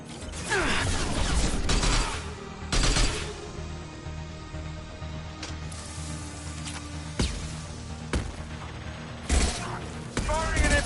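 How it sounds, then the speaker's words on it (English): Gunfire and impact shots in the sci-fi shooter Mass Effect 2, heard as several sharp bursts and crashes over mechanical game effects and music, with occasional voices underneath. "Firing an impact shot."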